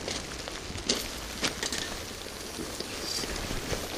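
Steady, fine patter of rain with occasional louder drops, continuous and fairly soft, no voices.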